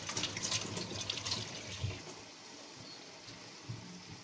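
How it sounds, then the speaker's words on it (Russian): Hands are washed under a running kitchen tap, a soft, steady stream of water splashing continuously at low volume throughout. "Сейчас руки помою."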